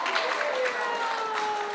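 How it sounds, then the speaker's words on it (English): Applause from a live audience at a 50th-episode celebration, a soft, steady patter of clapping heard somewhat distantly under a speaking voice. "We just wanted to give one more round of applause to Whitney and Erin."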